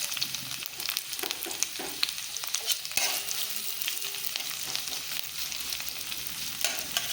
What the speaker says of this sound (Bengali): লঙ্কাগুলো দেওয়ার পর একটু ভাজা ভাজা করে নেব